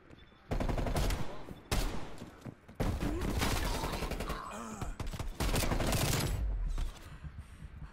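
Shotgun blasts in the Call of Duty Black Ops Cold War video game come as loud, close bursts of gunfire in rapid clusters, broken by brief pauses, with faint vocal sounds between them.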